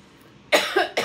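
A person coughs nearby: after a brief quiet moment come two loud, close bursts in quick succession, then the start of another.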